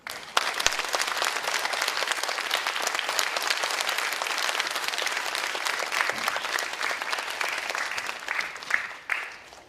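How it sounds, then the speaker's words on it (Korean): Audience at a children's composer results concert gives sustained, dense applause at a steady level for about ten seconds, with no talk over it. "큰 박수 부탁드립니다"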